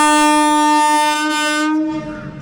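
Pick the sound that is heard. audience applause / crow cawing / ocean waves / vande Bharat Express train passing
vande Bharat Express train passing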